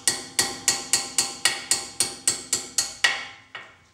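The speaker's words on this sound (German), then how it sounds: "Ich klopfe mit dem Hämmerle vorsichtig vorne auf die Splinte drauf" A small hammer taps the brake pad retaining pins on the rear axle of a Mercedes R107, W126 or W123: about eleven sharp metallic strikes in an even rhythm, close and clear, then one last tap after a short pause.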